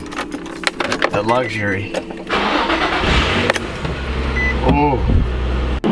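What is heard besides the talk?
Infiniti G35 car engine starting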